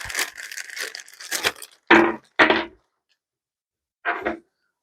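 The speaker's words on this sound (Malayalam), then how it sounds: "നമുക്കിതൊന്ന് അൺബോക്സ് ചെയ്ത് നോക്കാം." Packaging for a sand blaster gun rips and crinkles as it is opened, with a run of scrappy tearing followed by three short sharp rips separated by silence, close and fairly quiet.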